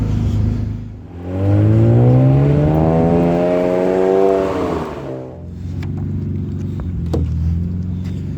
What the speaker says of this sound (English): Cars are getting ready, putting start numbers up.